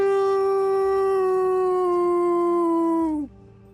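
Voices join in a single long, steady wolf-like howl imitating wolves baying at the moon, loud and sustained, then dropping off sharply at the end into quiet.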